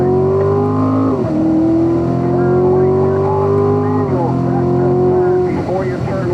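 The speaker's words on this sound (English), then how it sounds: "Accelerate hard, up to 4th gear" A Corvette Stingray accelerating hard on a race track: a loud, close engine climbs steadily in pitch, dropping briefly at two upshifts before rising again, with a voice talking over it.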